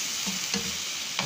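Aromatics hitting a hot pan for corned chicken sisig, a steady loud sizzle with stirring scrapes and a couple of brief clacks, no voices.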